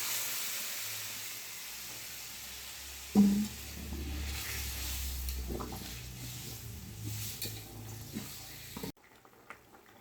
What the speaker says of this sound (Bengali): ওই ঝোলটা ঢেলে দেবো মশলার মধ্যে।